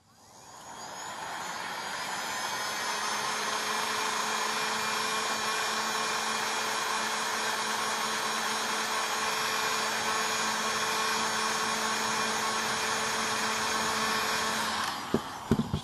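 Heat gun blowing hot air onto an iPad Air screen during a repair, a steady breathy roar with a faint whine that starts up, holds evenly for about fourteen seconds, then cuts off with a few clicks.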